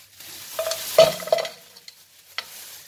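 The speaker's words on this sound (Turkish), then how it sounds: "Daha sonra tereyağında soğanlarımı kavuruyorum." Onions fry in butter for kapama pilaf, stirred in the pan with a soft sizzle and a few scraping strokes, close and brief, then fading into quiet.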